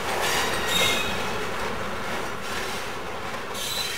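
Locomotive and railroad cars roll through a steel mill yard during switching, giving a steady, close rumble of wheels on rail with scraping squeals and faint clacking throughout; no one speaks.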